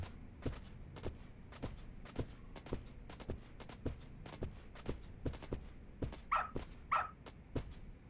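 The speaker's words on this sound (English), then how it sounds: "Who's a good boy? Doggo!" A dog in the video game Lost Judgment, with regular soft thuds like paw steps or barks spaced about half a second apart, plus two sharp yips near the end, fairly quiet with no talk.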